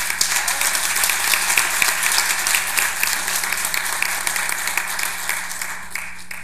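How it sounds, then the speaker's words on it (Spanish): An audience at a forum on the family institution in Mexico breaks into sustained applause, a dense, even wash of clapping from many hands that carries on for several seconds before gradually thinning. "Un aplauso, por favor."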